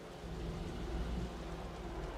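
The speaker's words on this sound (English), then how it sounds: "The rain's getting heavier." Heavy rain pours steadily with low rumbling thunder rolling underneath, a dense, continuous storm ambience in the video game Wuthering Waves.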